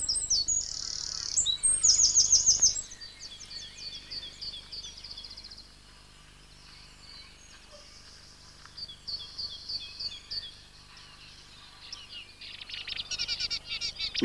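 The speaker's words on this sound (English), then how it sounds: "For its size, the wren has the loudest voice in the business" A wren in spring habitat sings loud, rapid trilling phrases in short bursts, with pauses between songs and quieter chirps from other birds in the background.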